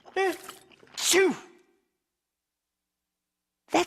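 Henry, a cartoon character, sneezes with a couple of sharp, voiced bursts, followed by silence and then another brief vocal sound at the end.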